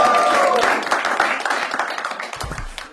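A studio audience at a comedy game show applauds loudly, and the dense clapping gradually thins and fades.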